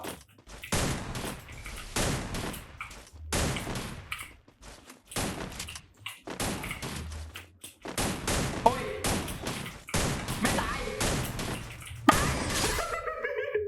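Gunfire in a 1vs1 video game match: repeated clusters of sharp shots in bursts separated by short gaps, loud and close, with a few harder cracks near the end.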